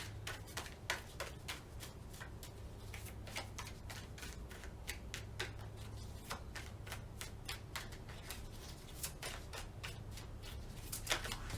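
Tarot cards are shuffled steadily and rapidly, a dense run of crisp riffling slaps and clicks close up that repeats for the whole stretch over a low background hum. Nobody speaks.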